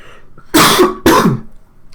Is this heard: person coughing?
yes